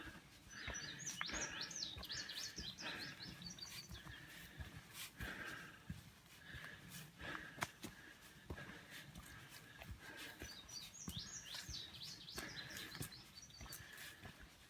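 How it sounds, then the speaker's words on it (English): Birds sing in the woods along the Appalachian Trail, faint and distant, with repeated bursts of high chirping song over quiet outdoor background and scattered soft rustles and knocks. "Birds are singing."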